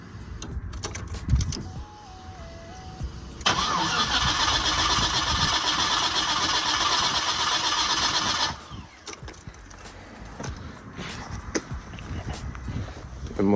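An LS-swapped engine with a weak fuel pump cranks steadily for about five seconds without catching, loud and close, with scattered clatter and voices before and after.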